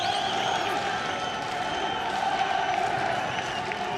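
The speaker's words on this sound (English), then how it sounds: "Well, that has brought the crowd to life." A football stadium crowd at a Guinea-Bissau versus Guinea World Cup qualifier: a broad, sustained roar of many voices with singing and cheering, steady and distant-sounding, under faint commentary.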